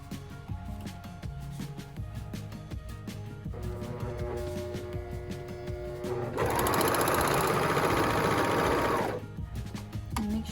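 A serger sews the bottom of a mask filter pocket with a close, rapid mechanical chatter. It runs in short bursts at first and then builds into a louder, sustained run before stopping.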